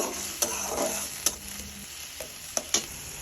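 Ginger and garlic paste is stirred into a frying tengra fish masala, with a low sizzle under it and a handful of sharp utensil taps on the pan.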